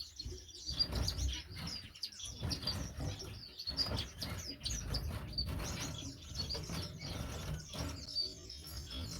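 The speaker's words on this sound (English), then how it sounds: "parrot finch, or red-headed parrot finch" Red-headed parrot finches in a birdshed cage chirp and twitter continuously in overlapping high calls, with occasional soft wing flutters and rustling beneath.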